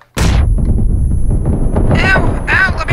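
A hand grenade goes off in PUBG as one heavy, close blast that rolls into a long rumbling tail, with a voice talking over the end of it.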